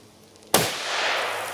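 A single .270 Winchester rifle shot firing DRT 117-grain ammunition, a sharp close crack followed by a long, broad rumbling tail.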